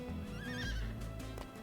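A horse neighs and whinnies with hoof clip-clops as a sound effect in a Magic card game, a brief whinny over steady background sound.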